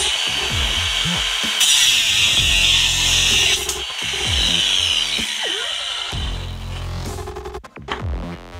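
An old brushed Milwaukee angle grinder whines loudly under load, its pitch sagging and bogging down several times, then recovering and spinning back up, with grinding contact noise throughout.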